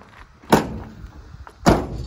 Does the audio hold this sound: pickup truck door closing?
yes